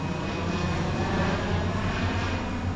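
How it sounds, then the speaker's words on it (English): An Air Tractor crop duster airplane drones steadily overhead, its loud engine roar holding constant throughout with no voices. "Nope, crop duster."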